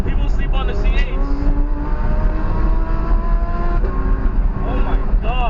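A twin-turbo Audi R8 accelerates through Miami traffic, its engine note rising loud and close as it pulls away, with people talking excitedly over the sound.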